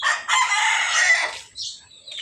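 A rooster crows loudly and close by in a village yard on a rainy morning. One long crow is followed by short trailing calls.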